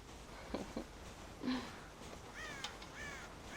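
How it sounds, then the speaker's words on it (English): Crows caw in a rural game world with a corn silo, several harsh calls in short bursts, loud and fairly close over a soft ambient background. "God damn crows!"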